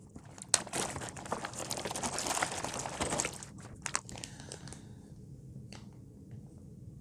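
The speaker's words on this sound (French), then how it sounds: "On a un sachet avec des capteurs dedans, avec tout un tas de choses, donc je vais ouvrir" Plastic bag holding a sensor kit for a Raspberry Pi Pico is torn open and handled, a close, quiet burst of crinkling and rustling that settles into sparse faint crackles.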